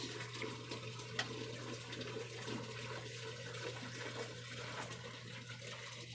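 Water poured off the top of an archaeological flotation sample down to the sludge, a faint continuous trickle and wash with a low steady hum beneath and no talking.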